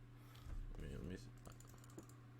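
Keystrokes on a computer keyboard while entering a value into stock charting software, a few quiet clicks scattered after a brief spoken word, soft and close.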